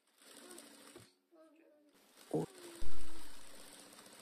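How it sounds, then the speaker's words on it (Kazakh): A sewing machine stitching the lining of a helmet gives a few short whirring runs, then a louder burst and a fading hum. Someone talks over the quieter part. "Енді біз ішін қаптайтын астарын тігеміз."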